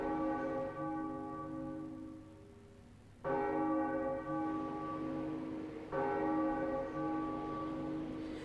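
Bells ringing in The Legend of Zelda: The Wind Waker video game, sounding three resonant, sustained tolls that each hang and slowly fade before the next strike, clear and alone with no talk.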